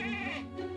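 A goat on a goat breeding farm gives a single nasal, wavering bleat, close and clear, lasting under a second.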